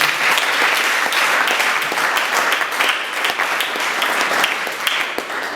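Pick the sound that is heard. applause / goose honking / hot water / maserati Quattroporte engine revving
applause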